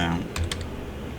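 A few quick, soft clicks from a computer keyboard as input is typed into a Python program, close and quiet against a faint background.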